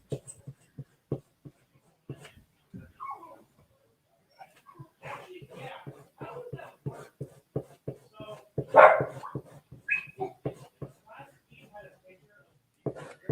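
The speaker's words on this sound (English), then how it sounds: "Sorry, my dogs are kind of noisy." Household dogs bark and whimper indoors, scattered yips and one louder bark cluster over ongoing tapping and faint room noise, with a person talking quietly at times.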